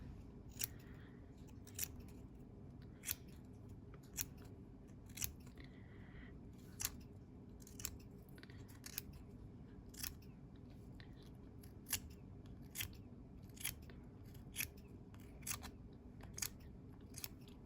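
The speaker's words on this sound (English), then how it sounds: "So just go with your scissors" Scissors snip through fabric close up in a slow, regular series of crisp cuts, roughly one every second, with no talking.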